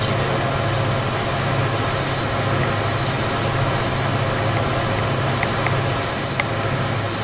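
A Metra commuter train passes steadily in Train Simulator 2016 at Naperville, a continuous loud rumble of rolling railcars and wheel noise with a sustained high whine, holding even throughout with no talking.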